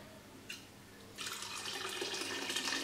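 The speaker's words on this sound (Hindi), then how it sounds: "इसमें डालना है लहसुन वाला पानी।" Garlic water poured into a pot of beef for karahi, a steady splashing pour that starts partway in and continues close up to the end, with no talk over it.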